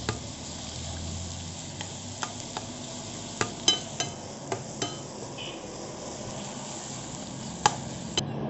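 Chopped tomatoes sizzle steadily in a hot pan for egg bhurji, a close, continuous hiss broken by occasional sharp clinks of a utensil against the metal, with no talking.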